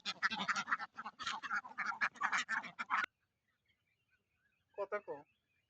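On a duck farm, a short run of nasal quacks comes near the end, after a few seconds of loud, busy calling or talking, followed by a brief silence.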